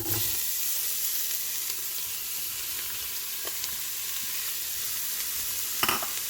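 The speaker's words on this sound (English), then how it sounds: "So we're going to cook these onions." Onions fry in oil and ghee, giving a steady, close sizzle throughout, with a few soft stirring knocks and a brief louder scrape near the end.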